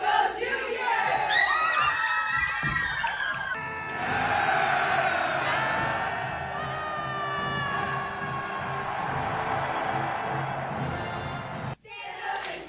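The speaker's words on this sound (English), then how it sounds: "Stand up and cheer, let us know you're here." Students at a school pep rally cheer and shout together as a loud, sustained crowd roar with chanting voices, holding steady throughout before a brief drop near the end.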